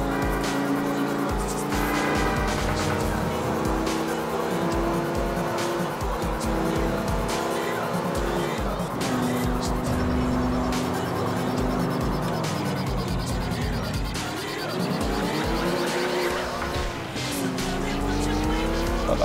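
A car in the video game GTA IV The Ballad of Gay Tony revs hard and accelerates while its tires squeal, the engine droning steadily and rising in pitch throughout, loud and close, with someone talking over it.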